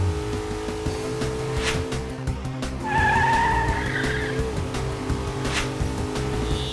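A car with failing brakes skids, its tires squealing in a sharp burst midway through, over steady engine and road noise.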